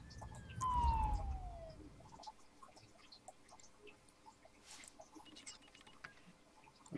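An ambulance siren in the SimCity city-building game wails in a short descending sweep near the start, then gives way to a faint bed of scattered city and bird-like ambient sounds.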